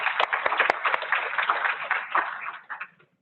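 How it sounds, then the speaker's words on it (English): Audience applause at a medical convocation keynote, a band-limited round of clapping with a few sharper individual claps early on, fading out near the end. "I think we should start with a round of applause for everybody who's contributed to"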